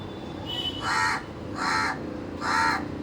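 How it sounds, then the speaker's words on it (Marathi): A crow caws three times, loud and close, with evenly spaced harsh calls against a quiet background. "कावळा आला, त्याला भूक लागली आहे."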